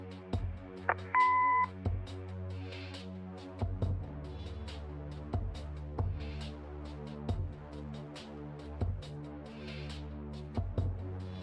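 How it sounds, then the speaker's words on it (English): A short electronic beep sounds early on, followed by a steady, repeating pattern of pulsing tones. "Leave a message after the beep."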